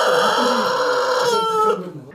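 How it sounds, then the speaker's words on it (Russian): Rare-breed chickens on a farm cluck and call steadily for about two seconds, fairly close and loud with no talk, before the sound drops away. "куры и утки редких пород"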